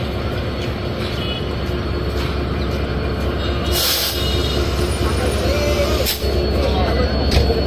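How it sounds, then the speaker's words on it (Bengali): A train pulls into Santahar Junction in Bangladesh on the Rajshahi to Chilahati line. Its loud, continuous rumble and wheel noise run throughout, with faint voices in the background. "ওই পারে আরেকটা ট্রেন আসছে"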